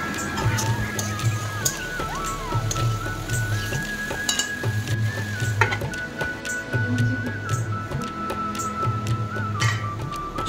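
Local chicken frying in a pan with turmeric, dried chili, coriander and cumin powders: a steady close sizzle with repeated stirring scrapes and clinks of a utensil against the pan.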